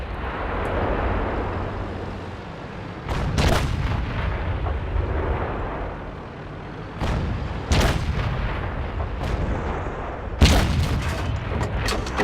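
Tank cannon shots from an ISU-152 and other tanks in a World of Tanks tournament match, with several loud booming blasts at irregular intervals over a continuous rumbling engine and battle background.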